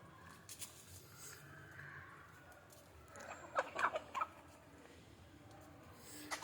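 Country chickens cluck softly and sporadically nearby while feeding on leftover rice and bran, with a few sharper clucks in the middle, against a quiet background.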